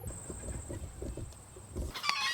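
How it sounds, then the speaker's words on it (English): Chickens cluck in short bursts against a steady background hum, with a brief burst of higher chirping noise near the end. "We're about to go kill some chickens."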